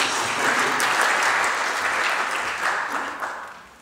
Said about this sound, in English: Could we have a round of applause, actually?